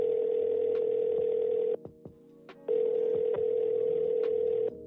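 A steady electronic telephone tone sounds, pauses briefly with a few clicks, then resumes, as a recorded phone call is placed.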